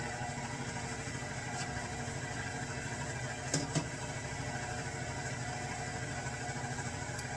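Stand mixer on low speed creaming butter and sugar for lemon marmalade thumbprint cookie dough, a steady close motor hum with a rhythmic churn throughout and a couple of brief clicks midway.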